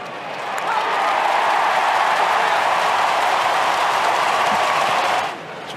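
At an AFL match between the Swans and their opponents, the stadium crowd swells into a loud, sustained roar that holds for several seconds before dropping away.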